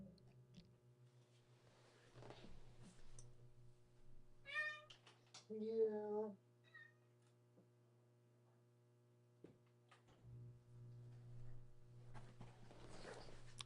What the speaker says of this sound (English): I'm going to let this cat out real quick